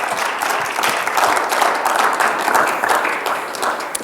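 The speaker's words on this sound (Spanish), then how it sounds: "Vamos a darle un aplauso al Señor." A church congregation claps together in sustained applause, a dense continuous patter of many hands filling the room at steady loudness with faint voices mixed underneath.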